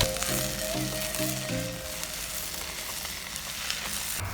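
Chopped tomatoes sizzle in a pan of sautéed onions for a shrimp roast, a steady close frying hiss with a repeating tonal beep-like pattern early on, no talk.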